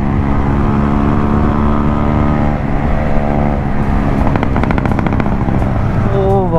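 KTM Duke 390 motorcycle fitted with an X3 exhaust kit, engine running loud and close with a deep rumbling tone that rises and swells in revs, steady throughout.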